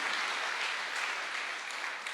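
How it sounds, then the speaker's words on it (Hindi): Audience applause for a charity that feeds people, a steady dense wash of many hands clapping throughout, moderately loud with no voices over it. "जोरदार तालियां होनी चाहिए इतनी शानदार संस्था के लिए।"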